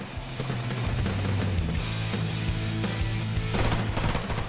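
A PPSh-41 submachine gun in the video game Survarium fires loud, continuous rapid bursts with almost no pause, up close, with no talk.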